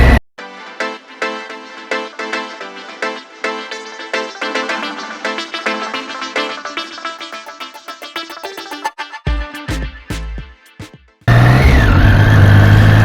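A new Royal Enfield Bear motorcycle rides into a dealership in Peterborough, its engine note climbing repeatedly in pitch through the gears, then dropping away under a sudden loud rush of wind and rumble.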